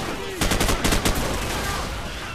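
Rapid bursts of automatic gunfire from a Call of Duty: Modern Warfare firefight, a dense volley of close, loud shots lasting about a second before settling into a lower rumble of battle ambience.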